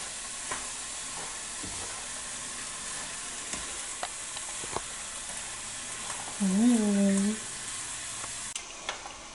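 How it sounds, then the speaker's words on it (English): Vegetables with mustard seed fry in a pan for a Mauritian zasar legumes pickle, a close continuous sizzle with intermittent scraping and stirring clicks, plus a brief squeaky tone partway through. "So I'm just mixing it, getting it more yellow"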